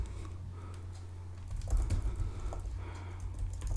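Fast, steady typing of JavaScript code on a computer keyboard, the clicks running close and continuous and growing a little louder partway through, with no voices.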